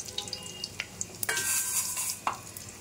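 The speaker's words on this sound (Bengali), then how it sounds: "তেল দিয়েছি, তেলটা গরম হয়ে গেছে। তো একটা লঙ্কা কেটে বিছানা করে দিলাম, আর একটু জিরে দেবো।" A cut green chilli and a spoonful of cumin seeds crackle in hot oil in a pan, with sharp sputters and pops rising into a brief louder sizzle, plus light utensil clinks.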